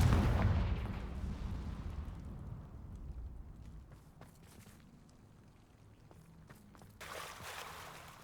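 A heavy blast from the Confringo spell in Hogwarts Legacy, played on hard difficulty, booms loudly at the start and then rumbles and crackles away into a long, fading tail, with a smaller burst of noise near the end.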